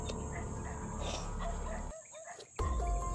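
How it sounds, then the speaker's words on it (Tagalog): Dogs close by give faint yips and whimpers amid low outdoor rumble, then a sudden hush and a loud thump near the end. "Parang palapit na palapit na aso."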